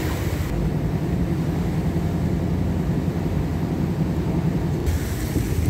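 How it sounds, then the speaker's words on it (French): Steady broadband engine drone of a Ryanair airliner approaching to land at Madeira, heard continuously and loud from close by, with no talking. "Le vol Ryanair en direction de Madère va bientôt atterrir."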